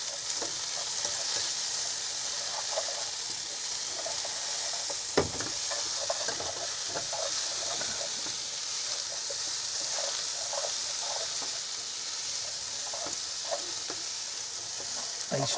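Spices dry frying in a pan while cooking inside a camper van, giving a steady close crackling sizzle throughout with a few sharp stirring clicks and scrapes.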